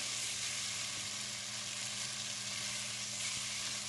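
Chicken pieces fry in a pan for a degi-style palak chicken, giving a steady, dense sizzle that holds at an even level throughout, close by with no voices.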